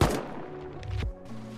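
Gunshots in the survival game Rust: a loud close shot at the start and another sharp crack about a second later, with game noise between.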